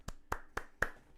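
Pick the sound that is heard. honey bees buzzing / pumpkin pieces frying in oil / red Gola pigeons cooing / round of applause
round of applause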